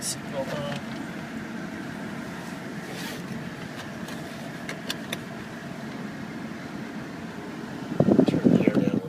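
Air conditioning fan in a 2003 Chevrolet Silverado diesel dually pickup, a steady close, even whoosh running throughout the cab before someone's voice cuts in loudly at the end.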